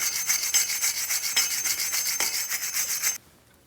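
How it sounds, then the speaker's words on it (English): Steady, rapid scraping of wire bristles against a Jeep Grand Cherokee's rear wheel hub surface during a brake job, a harsh continuous rasp with a quick rhythmic texture, close by, stopping abruptly near the end. "You can use a wire brush or a light sanding disc."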